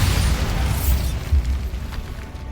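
A Bombarda spell blast in the video game Hogwarts Legacy, a dense, heavy low boom that rumbles continuously with a couple of stronger thuds, loud and close with no talk.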